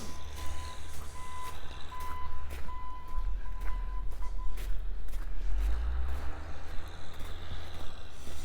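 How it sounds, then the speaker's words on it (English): Front-end loader clearing snow, its reversing alarm beeping steadily at a distance over low engine rumble and outdoor noise on a late-winter creekside walk in Regina. "All that noise is a front-end loader over there clearing snow."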